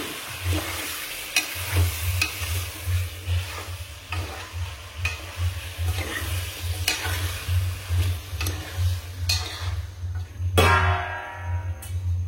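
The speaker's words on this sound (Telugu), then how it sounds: "చికెన్ వేస్తున్నాం కాబట్టి కలుపుకుందాం." Chicken frying in oil for chicken pulao, a steady soft sizzle under repeated scraping stirs of a spoon around the pan, with a louder clatter near the end; no talking.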